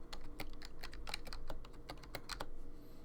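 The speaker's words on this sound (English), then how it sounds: "let's type this in" Quick, irregular clicks of keys being typed on a computer keyboard, close and fairly quiet over a low background hum, with no talking.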